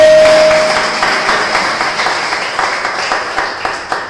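A church congregation applauds together, dense clapping that starts loud and slowly fades, with individual claps standing out near the end.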